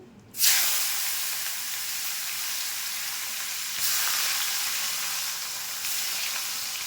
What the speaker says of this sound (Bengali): এই তেলে আমি পেঁয়াজটা দিয়ে দেবো